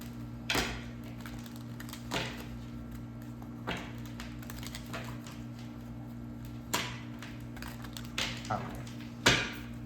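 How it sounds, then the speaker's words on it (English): Tarot cards being shuffled by hand, a series of sharp, close riffling snaps spaced irregularly over a low steady hum, with talking in places. "let's go ahead and get these shuffling"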